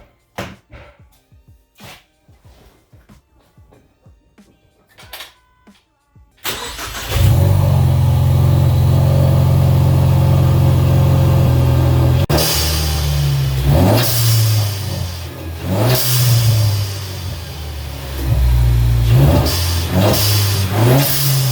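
Several quiet clicks and handling knocks come first, then a 2015 Ford Mustang EcoBoost fitted with a Specter intake kit starts up nearby, settles into a steady idle and is revved several times with loud, rising pulls.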